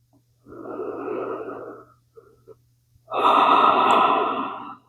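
Deep cleansing breaths in a yoga child's pose: a long steady inhale, a brief pause, then a louder, fuller exhale close to the microphone.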